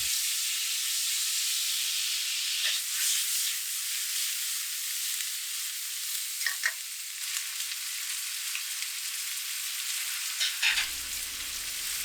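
Vegetables frying in a wok with separately reduced soy sauce for oyster jjamppong, a continuous close sizzle and hiss with a few stirring scrapes, ending in a brief clatter, no talk.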